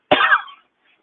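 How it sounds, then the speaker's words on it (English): A single sharp, close cough, loud and dry, ending quickly into silence. "Still coughing."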